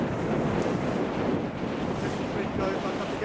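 Strong wind buffets a boat on open water near the industrial side of Amsterdam, a steady loud roar of gusts and surf-like rushing filling every moment with no break.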